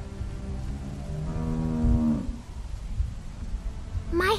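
A cow moos once in The Walking Dead video game, a drawn-out, fairly close low call that bends down at its end, followed by a short higher sound.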